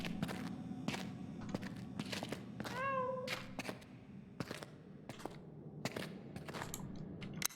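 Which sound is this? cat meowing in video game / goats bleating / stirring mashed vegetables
cat meowing in video game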